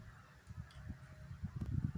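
Homestead ducks on a foggy morning call out in quiet, low honking quacks, a scattered series of short calls that grows busier toward the end, faint and somewhat distant.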